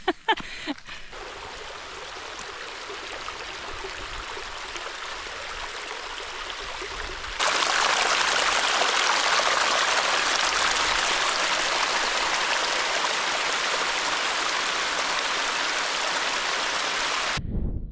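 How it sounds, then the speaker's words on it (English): Rain falls steadily outdoors at a wild camp in the hills, a broad even hiss that suddenly grows louder and denser partway through and carries on with no talk. "It's starting to rain again."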